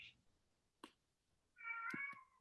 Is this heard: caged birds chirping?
no